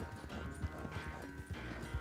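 A horse gallops in Red Dead Redemption 2, its quick hoof beats thudding in a steady rhythm and recurring about every half second, with game music and ambience running underneath.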